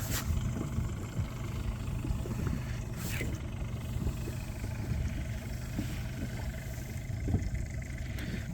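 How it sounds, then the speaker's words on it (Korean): A steady low engine drone runs throughout, like a boat motoring along, with faint water wash and no talking. "배를 돌려봤는데"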